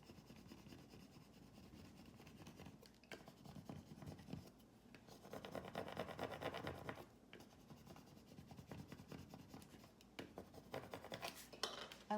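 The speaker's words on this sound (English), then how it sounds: "Now I'm just going to put that on there and just rub." Cricut vinyl decal rubbed hard onto a coffee mug, a quiet continuous scratchy scraping that swells and fades in uneven strokes, close up and with no talking.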